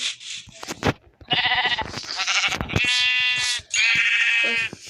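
Several sheep bleat one after another in Minecraft Pocket Edition, loud, close, quavering calls that follow each other almost without a break, with no voices.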